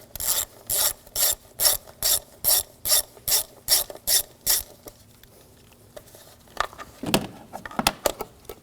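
Ratchet wrench with a 6mm socket loosening a hose clamp on the 4.2L V8 engine of a 2004-2009 Audi S4: about a dozen quick, evenly spaced clicking bursts close up, then a pause and a few scattered metallic clicks and rubs.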